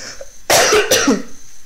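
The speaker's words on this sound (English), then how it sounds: "sorry i got a cough" Two harsh, close coughs in quick succession, the second ending in a throaty rasp.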